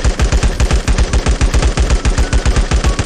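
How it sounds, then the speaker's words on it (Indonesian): Automatic weapon gunfire from a shooter in the video game LifeAfter, fired in a steady rapid burst of about a dozen evenly spaced loud shots, close and alone with no talk. "Lalu kalian tembak."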